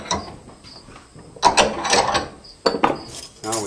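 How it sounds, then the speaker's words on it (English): A nail with its head cut off is clamped in a vise in a blacksmith's shop, giving several short ratcheting, grinding clicks in uneven bursts, close and moderately loud. "So we put that in the vise."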